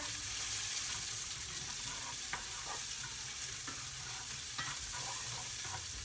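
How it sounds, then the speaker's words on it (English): Garlic and onions being stirred into mushrooms frying in a pan, giving a strong steady sizzle throughout with a few faint utensil scrapes and taps. "add the aromatics, or the garlic and the onions, to the mushrooms that are cooking over here. Give that a nice stir"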